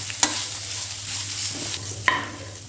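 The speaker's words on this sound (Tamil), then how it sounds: "தேங்காய் சேர்த்து ரொம்ப வறுக்க வேண்டாம் லைட்டாக வறுத்தாப்பா" Steady sizzling of grated coconut lightly frying in a pan, with a couple of sharp scrapes from stirring, loud and close.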